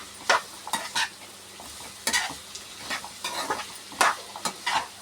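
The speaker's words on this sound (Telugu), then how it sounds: "ఆనియన్స్, జీడిపప్పు అలాగే పచ్చిమిర్చి అన్నీ వేసి వేపుకుంటున్నాను అనమాట. ఇవి బాగా డీప్ ఫ్రై అవ్వాలి" Onions, cashews and green chillies deep frying in hot oil, with a steady sizzle broken by repeated scraping stirs of a spoon against the pan, close and fairly loud.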